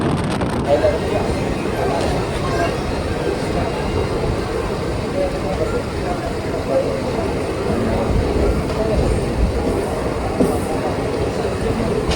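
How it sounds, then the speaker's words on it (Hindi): Train rolling along the railway in India, heard from on board as a steady, loud broadband rumble with rhythmic rail clatter throughout, a few faint voices mixed in. "अब तो फिलहाल ट्रेन का सफ़र हमारा चल ही रहा है"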